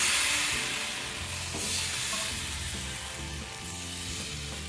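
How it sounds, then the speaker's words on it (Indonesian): Batter poured into a hot non-stick pan sizzles in a steady, close hiss, with soft stirring and bubbling textures underneath and no talking. "Karena ini udah panas, kita tuangkan adonan yang kita buat tadi ya."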